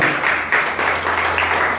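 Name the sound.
congregation applauding in church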